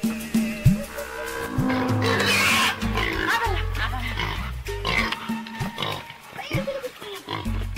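A pig being taken to sale in a remote Amazon village struggles and oinks in short, loud grunts and squeals, mixed with rustling, scuffling and people's voices nearby.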